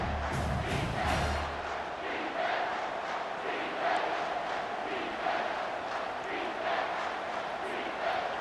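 Loud, dense stadium crowd roaring steadily through a tense third-and-four play in the EA Sports College Football 25 video game, with broadcast-style commentary faint beneath.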